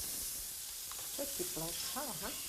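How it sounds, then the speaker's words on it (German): Heavily spiced pike sizzles briefly in a hot pan, giving a steady, soft hiss with faint tonal voice-like sounds drifting over it. "Der kräftig gewürzte Hecht tut Maria nur kurz bräteln."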